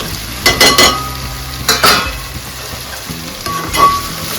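Raw mango pieces tossed into a cooking pan for a dried fish and taro tamarind stew, giving a few short bursts of clatter and sizzle at close range with quieter cooking noise between.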